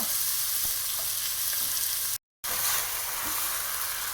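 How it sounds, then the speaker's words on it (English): Veal browning in a hot pan for nihari sizzles steadily up close, a constant frying hiss with a few light spoon taps and a brief dropout midway, no one speaking. "It's browning nicely, and you just want to keep doing this for a little bit more."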